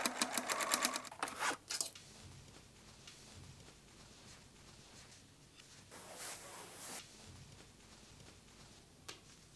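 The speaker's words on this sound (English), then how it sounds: "Sew pieces into main panels." A sewing machine stitches pieces of old denim jeans into bag panels, running in a loud fast burst at the start, then softer, quieter runs of stitching later on.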